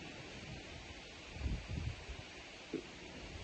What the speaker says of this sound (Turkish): Rüzgar geliyor arkadaşlar, kusura bakmayın.